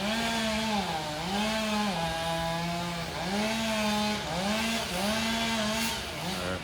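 A chainsaw whines steadily as it cuts through a tall tree, its pitch dipping and rising in repeated cycles as the blade bites into wood.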